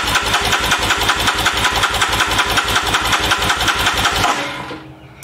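A Royal Enfield Himalayan motorcycle with a 500cc big-bore single-cylinder engine cranks over steadily with the fuel tank removed, giving a loud, even, rapid chugging rhythm for about four seconds before the starter stops and the sound dies away.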